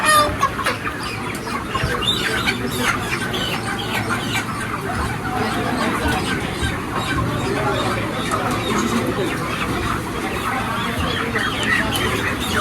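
Hens cluck and fuss continuously amid a busy, noisy market, with voices chattering throughout the background.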